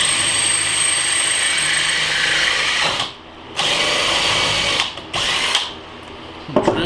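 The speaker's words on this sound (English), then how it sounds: "Drill till you find wood." A power drill bores into a guitar's metal tremolo block until it reaches the wood beneath, running loud and close with a steady whine, then stopping and restarting in a few short bursts.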